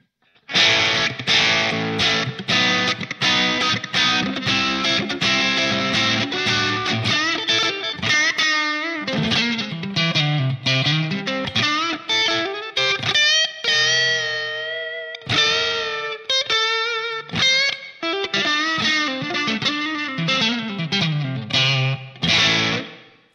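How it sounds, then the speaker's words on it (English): Heavily distorted electric guitar through a Line 6 POD HD500 Brit P-45 amp model simulating a cranked tube amp, playing chugging chords and bending single-note riffs with brief pauses, loud and close. "it's meant to simulate the sound of a crank tube amp"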